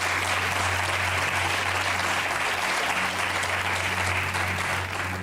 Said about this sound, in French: Je vous propose d'applaudir ces 3 personnes très fort